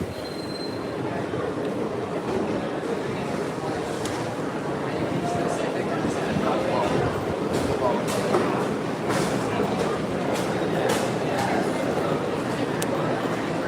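Walt Disney World monorail train in motion near Epcot, a steady loud rumble of wheels and cabin noise with occasional squeals and clicks throughout, no clear talk over it.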